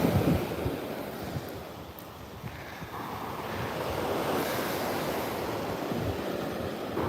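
Surf washing onto a beach on a cool 60-degree day, with a continuous wash of waves and gusty wind buffeting the microphone, steady and moderately loud throughout with no talking.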